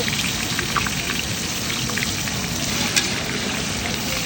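Chopped onions frying in a pan for chicken curry give a steady, dense sizzle with fine crackling throughout, close and even in level, with no pauses or talk.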